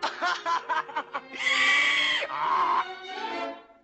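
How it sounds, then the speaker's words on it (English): A cartoon character's choppy, staccato laugh turns into drawn-out, braying donkey-like hee-haw cries, loud and close, as a voice performs the transformation from laugh to bray. "you laugh like a donkey."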